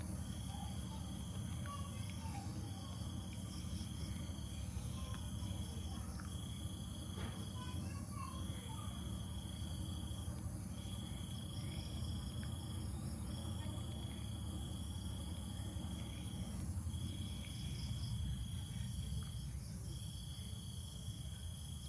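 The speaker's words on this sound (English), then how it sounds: "there's obviously frogs, grasshoppers, all that kind of tropical evening sound." A steady chorus of tropical frogs and grasshoppers trills on and off at night in Bangladesh, a dense buzzing bed with a low generator-like hum beneath, fairly faint.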